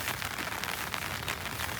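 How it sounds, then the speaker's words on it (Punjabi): Rain keeps falling over waterlogged farm fields, a continuous even hiss that is close and moderately loud, heard alone without talk. "ਕੱਲ ਪਰਸੋਂ 4 3 ਦਿਨ ਹੋ ਗਏ ਮੀਂਹ ਪੈਂਦੇ ਨੂੰ ਹਟਦਾ ਹੀ ਨਹੀਂ ਹੈਗਾ ਮੀਂਹ"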